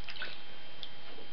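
Soft splashing, dripping and trickling water sounds close by as a newborn baby is washed during her first bath, a gentle steady wash with small drips and squishes and no voices.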